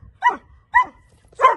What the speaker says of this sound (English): I'm asking for four barks before it moves.